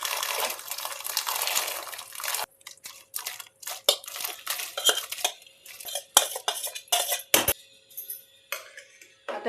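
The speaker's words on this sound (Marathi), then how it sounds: "आता याला थोडंसं हलवून घेऊया" Sabudana (sago) is stirred in a pot of water over a gas flame, giving clinks and scrapes of a spoon against metal amid soft watery sloshing, close by and irregular, with no talking.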